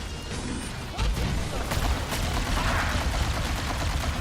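A gun fires in a Halo game in loud, rapid volleys of shots mixed with crashing impacts, continuous and close for several seconds.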